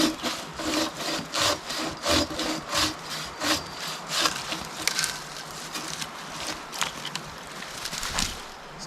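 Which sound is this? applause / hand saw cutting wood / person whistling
hand saw cutting wood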